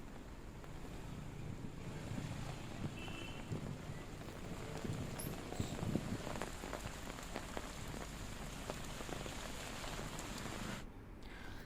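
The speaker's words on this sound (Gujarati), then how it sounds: "આસપાસના વિસ્તારોમાં ધીમી ધારે વરસાદ ખાબક્યો" Light rain falls steadily over a Saurashtra village, a dense, even hiss of drops on surfaces with scattered sharper taps, lasting throughout at a moderate distance with no voices.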